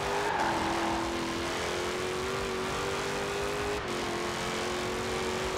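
A 1,000-horsepower Jeep Trackhawk holds top speed on the road in Forza Horizon 4, its engine a steady, sustained drone with a fixed tone and slight wavering, fairly quiet and unbroken.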